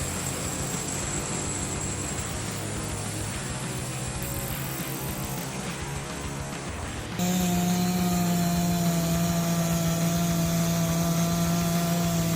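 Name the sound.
sawmill saw cutting through logs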